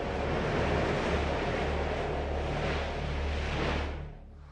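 Typhoon Maemi's winds and heavy surf roar at Seongsan on Jeju, a dense, steady broadband rush of storm wind and breaking waves that holds loud throughout and fades slightly at the end.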